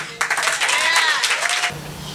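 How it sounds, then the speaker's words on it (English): An audience breaks into applause at a live session event, a dense burst of clapping that starts abruptly, stays loud and steady for about a second and a half, then cuts off. "So please give a round of applause for Dee."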